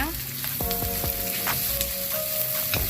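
Chopped garlic and ginger fry in hot oil in a pan while cooking laing, giving a loud, continuous close sizzle with faint stirring scrapes and no voices.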